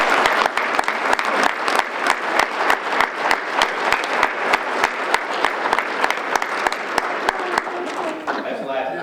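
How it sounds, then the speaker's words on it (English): Audience applause at a State of the City event honoring a city manager: sustained, fairly loud clapping from a crowd, with distinct claps standing out throughout, tapering slightly at the end. "I'm going to give her a round of applause"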